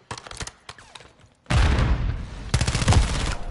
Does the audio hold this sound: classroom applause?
no